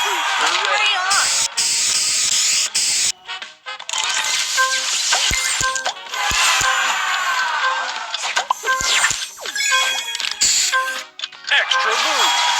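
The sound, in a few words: booster spray effect in a video game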